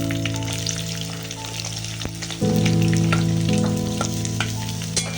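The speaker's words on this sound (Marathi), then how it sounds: "तेल चांगलं गरम झाले, आता आपण टाकूया याच्यामध्ये उभा चिरलेला कांदा" Sliced onion tipped into hot oil for a kingfish masala, a steady frying sizzle that jumps louder halfway through as the onion hits the pan, close and continuous.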